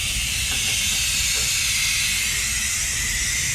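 A Harbor Freight air-operated brake bleeder gives a steady, loud hiss of rushing compressed air that runs unbroken for the whole stretch, with nothing else heard.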